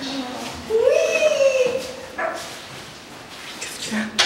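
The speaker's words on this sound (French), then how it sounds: "Qu'est-ce qu'il y a? Un chien." A dog whimpers and yips with a long rising whine, then gives a few short barks, close by and moderately loud, with people talking faintly around it.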